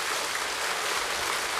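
Audience applause inside Jogyesa temple after a Buddhist dharma talk, a steady, fairly faint wash of clapping with no voices.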